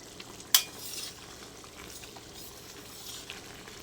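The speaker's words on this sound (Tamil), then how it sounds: "பாருங்கள், எண்ணெய் நல்லா திரண்டு கொதிக்குது." Coconut oil and coconut milk for a herbal hair oil boil in a pan with a steady, soft sizzle and bubbling. A single sharp clink of a utensil sounds near the start.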